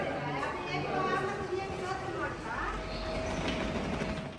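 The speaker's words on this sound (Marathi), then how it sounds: "म्हणजे कर्जत ट्रेन इली आता, या ट्रेनने आम्ही जातो कर्जत." A Karjat-bound local train arriving at a station, a rolling rumble with faint clatter and a rising tone, heard under nearby voices talking on the platform.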